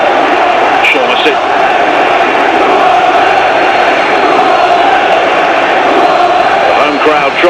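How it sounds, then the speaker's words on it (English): Football crowd noise at a Portsmouth home match against Ipswich Town in the EFL Championship, a loud continuous roar of a stadium crowd with shouts rising and falling, heard under a commentator's voice. "Crowd tried to bring the noise once again as Walton rather skies the clearance."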